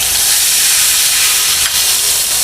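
A ground paste of green chili, ginger and tomato hits hot oil tempered with dried red chilies, producing a loud, unbroken hiss of sizzling and steam that lasts the whole moment.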